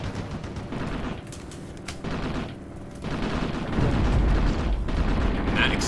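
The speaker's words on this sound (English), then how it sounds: "That explosion already wounded one of them." Battle sounds from the video game Graviteam Tactics, set in Afghanistan in 1980: continuous rumbling gunfire and booming explosions, including an APC blowing up, with dense overlapping crackles and a heavier blast building toward the end.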